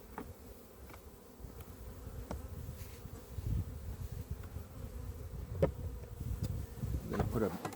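Honeybees buzzing around an open hive during an April inspection, a soft continuous hum with individual bees droning close past, a few faint handling knocks and clicks beneath.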